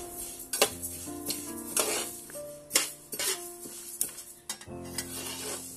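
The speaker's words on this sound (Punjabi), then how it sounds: "ਅਲਸੀ ਜਦੋਂ ਭੁੰਨਦੇ ਹਾਂ ਅਤੇ ਉਦੋਂ ਇਹਦੇ ਵਿੱਚੋਂ ਆਵਾਜ਼ ਆਉਂਦੀ ਆ ਅਲਸੀ ਭੁੰਨਣ ਦੀ" Flaxseed dry-roasting in a pan over medium heat with no ghee, giving a steady faint crackle and sizzle broken by repeated loud scrapes and clinks of a spoon stirring against the metal.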